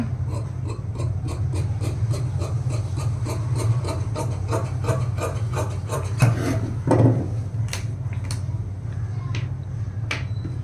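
Scissors snip through blouse fabric along marked cutting lines, a quick regular run of small crisp clicks over a steady low hum, close and moderately loud.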